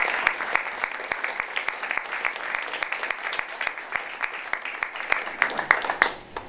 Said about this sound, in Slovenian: tako da dajmo jim zaploskati.